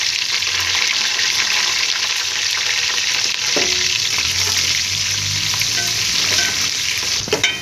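Onions and green chilies fry in hot oil with whole spices, a loud steady sizzle broken by the scrape and clatter of a spoon stirring in the pan.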